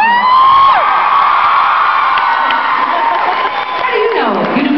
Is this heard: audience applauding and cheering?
yes